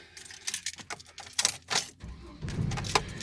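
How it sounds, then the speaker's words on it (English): A ring of keys jangles close by in quick irregular bursts, then a heavier rattle, outdoors in a sheriff's department parking lot. "There's the keys."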